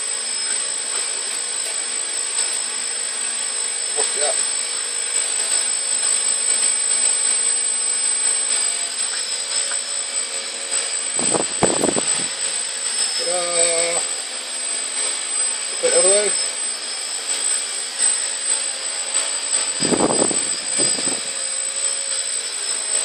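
Motors of a Raspberry Pi-controlled quadcopter prototype whine steadily and continuously at close range, changing speed as the craft is pushed, with brief talk and a few bumps over the drone.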